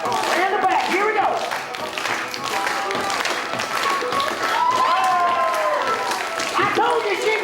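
Circus audience in a big crowd clapping and cheering, loud and continuous, with an announcer's voice and shouts rising over the applause.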